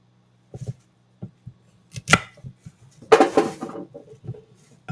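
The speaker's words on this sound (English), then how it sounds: "We're not going to peel these, just cut the ends off." A knife trimming the ends off unpeeled carrots on a cutting board, a few sparse close taps and knocks with a longer scraping clatter near the end, in an otherwise quiet kitchen.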